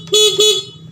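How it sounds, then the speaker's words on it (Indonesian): Honda Beat motorcycle horn tested on a stationary bike, two quick loud beeps in succession, close and alone with no talking. "tes klakson dulu,"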